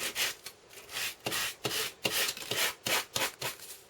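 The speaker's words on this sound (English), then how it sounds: "you can just use a sanding block" Repeated rasping strokes of a sanding block scrubbing a metal surface, a steady back-and-forth rhythm of about a dozen quick passes, close up.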